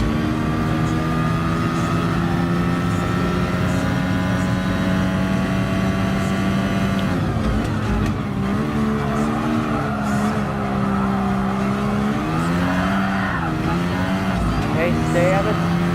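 Ayrton Senna's Lotus 97T race car in Gran Turismo Sport: a loud, continuous, buzzing engine note that holds steady, then dips and climbs again as the throttle is eased and reapplied, close and constant throughout.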